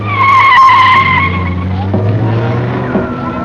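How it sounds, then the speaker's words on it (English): Rally cars from the 1974 Liban Syrie Rallye, including a Porsche, Jensen Healey, Renaults and an Audi, pull away into busy Beirut traffic, engines loud and close with a brief tire skid, while a voice talks over the scene. "A 3 o'clock, Henri Farran flags away 24 cars into Beirut's busy traffic."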